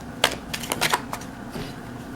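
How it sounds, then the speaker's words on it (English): Tarot deck of 22 Major Arcana cards shuffled by hand, a few quick crisp riffling bursts close by in a quiet room, separated by brief pauses. "22 Major Arcana, shuffle them"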